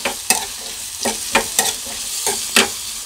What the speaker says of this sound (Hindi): प्याज थोड़ा भून लेते हैं अब प्याज भून लेते हैं